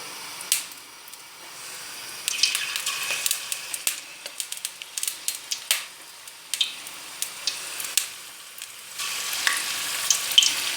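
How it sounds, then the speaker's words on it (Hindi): Egg-battered potato pakoras fry in hot oil, giving a steady crackling sizzle with many sharp pops scattered throughout. "अब हम आलूओं के पकोड़े बनाएंगे।"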